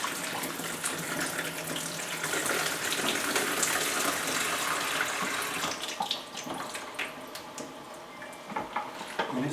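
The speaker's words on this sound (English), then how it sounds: "we're going to pour off all the rest of this rinse water." Rinse water poured out of a 4x5 black-and-white film developing tank, a steady broadband splashing gush running nearly throughout, slightly breaking up into uneven trickles toward the end, with no talking.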